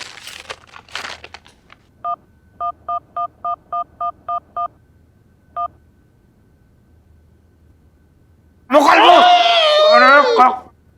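A burst of keypad tones as a phone number is dialed, about nine short evenly spaced beeps followed by one more after a pause, then a loud voice speaks close by.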